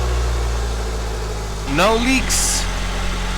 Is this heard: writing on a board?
no